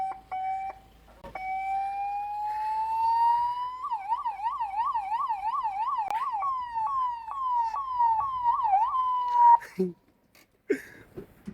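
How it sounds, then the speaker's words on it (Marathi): A new ambulance's siren sounds loud and close, rising into a steady wail and then switching to a rapid warbling yelp before cutting off, with brief voices and clatter right after. "सायरन वाजे रे एकदा"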